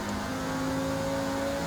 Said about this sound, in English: Revving it out into fourth.